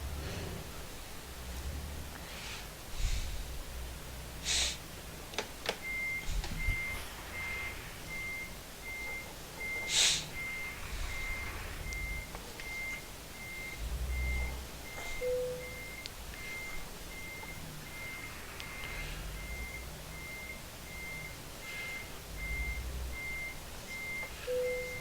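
Repeated reversing beeps from a truck backing a trailer in Euro Truck Simulator 2, a steady evenly spaced tone running over a low engine rumble, with scattered clicks and knocks along the way.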